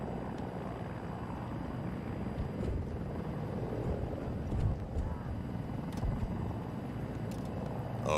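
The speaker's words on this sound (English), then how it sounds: "I don't know what helicopter this is." A helicopter in the Battlefield video game, a steady, dense rotor and engine roar holding at even loudness throughout, with faint scattered clicks and no clear talk over it.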